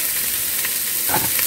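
Onions sizzle and fry in a pan, a steady close crackling hiss with a few brief stirring scrapes near the end.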